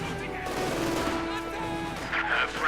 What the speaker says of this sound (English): And MG42 being hunted down by combat engineers.